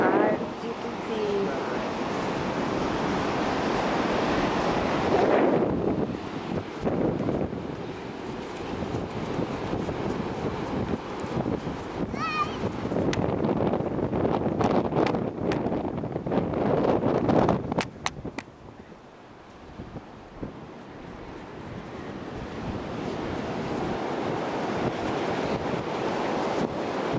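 Surf and strong wind on Myrtle Beach: a continuous rush of waves with heavy gusts buffeting the microphone, easing briefly in a quieter lull near the end, with occasional voices speaking over it.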